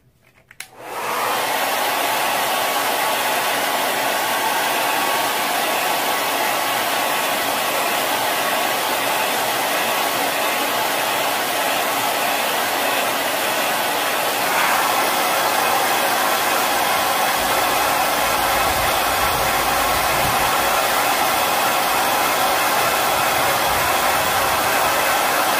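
A hair dryer drying paint on a black canvas runs after a click at the start, a loud, steady, close whooshing hum that stays constant, with a slight shift in tone midway.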